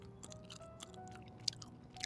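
Someone chews cake with soft, moist, irregular mouth clicks and squishes, close and quiet, with a sharper click partway through.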